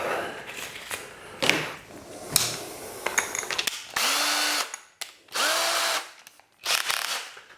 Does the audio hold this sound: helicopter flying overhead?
no